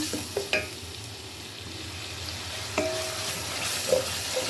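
Chicken frying in a pan with ginger garlic paste, a steady close sizzle with a few sharp clinks and scrapes of a stirring utensil against the pan.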